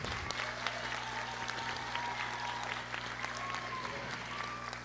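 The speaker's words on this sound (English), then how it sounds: "Let's give those students another round of applause" Sustained applause from the audience at an adult education graduation ceremony, steady and moderately distant, with a faint hum running underneath.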